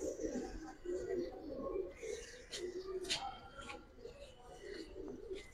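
Pigeons at a market coo in soft repeated low burbles close by, with occasional higher chirps and faint background voices.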